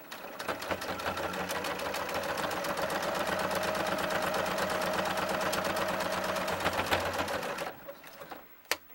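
A sewing machine runs steadily for several seconds, a close, even motor hum with fast needle ticking as it stitches a fitted fabric mask, then stops with a few clicks and handling sounds.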